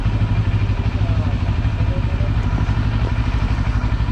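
A Benelli TRK700 motorcycle's exhaust gives a steady, loud, low rumble heard close up while riding, an even engine drone with no distinct revving peaks.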